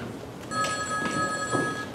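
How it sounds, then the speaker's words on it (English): A stage telephone at a high school theatre performance, triggered by a foot buzzer, rings with a steady electric bell tone lasting about a second and a half over a dull room background. "When you hang up, you push the buzzer with your foot, and the phone rings again."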